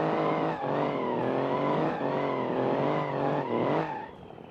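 A truck doing a burnout in BeamNG.Drive, its engine held at high revs while the tires squeal steadily and loudly, the pitch dipping briefly before winding down, no talk.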